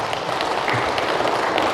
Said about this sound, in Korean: 이런데 박수 한번 쳐야지 않아요?